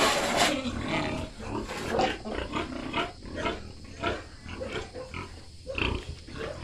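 Sows in a backyard pigpen grunt and snort repeatedly, close by and fairly loud, with overlapping rough grunts continuing throughout without any talk.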